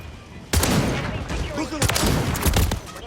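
Shotgun blasts from a Jak Wardens conversion in Modern Warfare 3, a loud burst of booming shots starting abruptly, then a second cluster of heavy, spaced reports, close and dominant with speech faintly underneath.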